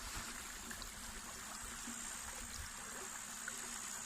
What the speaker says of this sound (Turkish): Suyumuz akıyor.